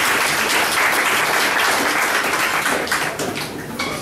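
A gathering audience gives steady, full applause that continues throughout and thins slightly toward the end.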